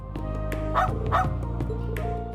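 A dog in the video game Trails Into Reverie barks twice in quick succession, clear and close, over a steady bed of in-game music.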